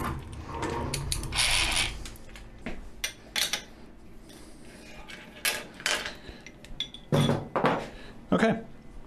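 A metal washer and nut clink and scrape while being fitted on a Deckel FP1 milling machine in a workshop, with sharp metallic taps in clusters and a voice speaking now and then.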